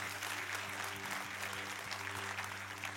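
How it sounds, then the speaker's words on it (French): A church congregation claps together in dense, sustained applause, a full steady patter of many hands filling the room. "Alors, on peut applaudir Dieu si vous voulez applaudir Dieu."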